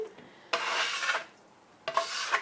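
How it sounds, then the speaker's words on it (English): A bread scraper drags through dough in a bowl, making two close rasping scrapes with a short pause between them. "Just scrape it right in the bowl."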